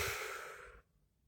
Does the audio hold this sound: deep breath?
yes